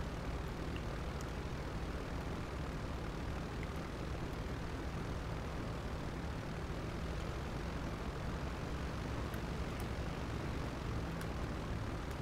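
A Coast Guard C-130 transport plane taxis in GTA 5, its propeller engines giving a steady, loud, dense drone that holds level throughout with no talk.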